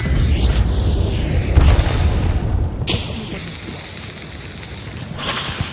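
A heavy grenade explosion in the video game Hunt: Showdown, a loud, sustained boom with a crackling, rain-like debris rumble that slowly fades over several seconds.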